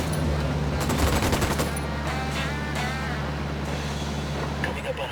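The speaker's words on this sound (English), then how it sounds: "Opening fire." Burst of rapid automatic gunfire in the tactical shooter Ghost Recon Wildlands, a dense rattling volley over about a second followed by scattered shots and a steady engine rumble underneath, with voices talking over it.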